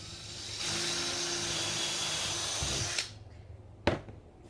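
A power drill whirs steadily for a few seconds boring a hole in an engraving piece, then winds down and stops, followed by a sharp click and quiet.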